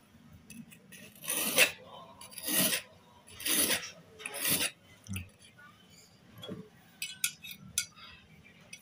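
Scissors blade sharpened on a whetstone: a series of close rasping push strokes, four strong ones then softer scrapes and small metallic clinks, with faint voice in the background.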